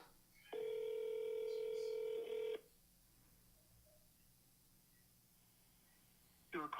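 A telephone call rings out over a handset: one long steady ring tone lasting about two seconds, then silence while waiting for someone to pick up, with a brief burst of sound at the end.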